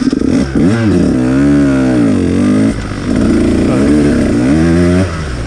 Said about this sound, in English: you have to kill the engine and flip the switch and restart it